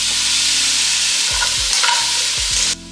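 Diced carrot, potato, chopped scallion and scotch bonnet stir-fry in hot oil for Jamaican brown stew chicken, a constant close sizzle with scraping stirs, cut off abruptly near the end.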